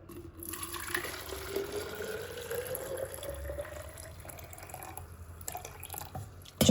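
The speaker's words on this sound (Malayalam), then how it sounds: "ഇനിക്ക് വാട്ടർ ബോട്ടിൽ വെള്ളം നിറക്കട്ടോ." Hot water pours into a water bottle with a rising gurgling fill tone that climbs steadily as the bottle fills, near and moderately loud, ending with a brief clunk.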